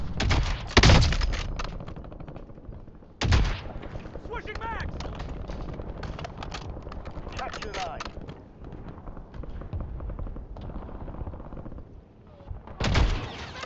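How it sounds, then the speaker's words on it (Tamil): Gunfire in a shooting video game: heavy booming shots at the start, middle and end, with a dense clatter of rapid fire and action sounds throughout, while players talk over it. "ஓவரா சுட்டுட்டு இருக்கான்."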